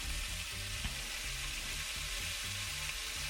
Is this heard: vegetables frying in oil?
yes